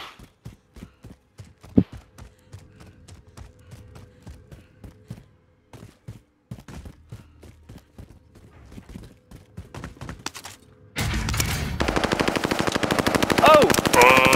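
Video game gunfire crackling in fast bursts of rapid shots, with footstep-like clatter in between and a dense, louder stretch of shooting near the end, under faint voices.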